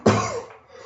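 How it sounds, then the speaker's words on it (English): A single sharp cough close to the microphone, followed by a brief fading throat sound, with no talking. "Another cough."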